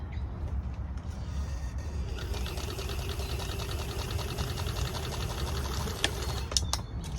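A sewing machine stitches a seam at a steady, rapid whir, its needle clatter continuous and fairly quiet and close. A few light clicks come near the end.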